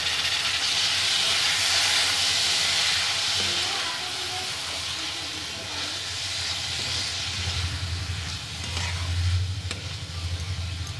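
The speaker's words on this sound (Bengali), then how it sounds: "এই রাইসটা এবার এর মধ্যে দিয়ে দেবো।" Soaked, drained rice tipped into a hot pan for a chicken dish, giving a loud steady sizzling hiss that holds throughout and swells again near the end.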